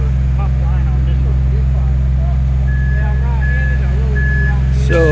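Truck backing up at a construction site pouring garage footings, intermittent high reversing beeps over a loud, steady low engine drone, while people talk nearby.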